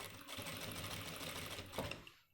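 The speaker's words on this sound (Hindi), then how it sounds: "ये जो सीधी सिलाई हम यहाँ से ले रहे हैं, ये इसके ऊपर से होती हुई चली जाएगी इस तरीके से" Sewing machine running steadily while straight-stitching along a men's pant waistband belt, a continuous close whirring that ends with a brief stop and a thump.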